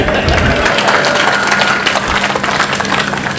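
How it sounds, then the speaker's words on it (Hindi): Audience clapping at a rally for a statue unveiling of a martyred soldier in Rajasthan, steady dense applause from a crowd throughout with murmuring underneath. "ताली बजा रहे, दोबारा बुलाऊं क्या?"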